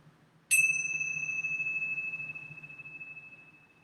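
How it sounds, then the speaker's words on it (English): A set of bells rung once at the close of a yoga session: a single clear strike followed by a bright, sustained ringing tone that slowly fades over several seconds, alone with faint room noise. "I'm going to ring these bells once."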